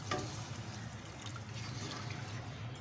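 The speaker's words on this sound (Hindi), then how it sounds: "1 गिलास और पानी डालेंगे।" Water is poured into a pan of semolina halwa with milk, a soft continuous splashing trickle, faint and close, lasting a few seconds.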